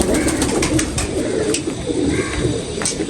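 A pigeon in a wire cage coos steadily and fairly loudly, with a dense, continuous low murmur of cooing and light rustling throughout, no voices.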